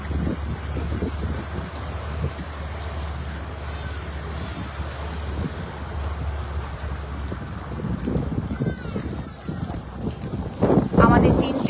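A boat cruising across Lake Naivasha in Kenya, its steady engine drone and rushing water carried under heavy wind buffeting the microphone, with a brief louder gust near the end.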